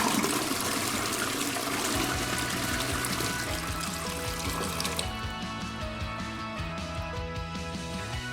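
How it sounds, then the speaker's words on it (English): A toilet in a public bathroom flushes with a loud rushing pour of water that shifts into a softer swirling, gurgling refill, heard alone without talk. "flush the water only after you close the lid"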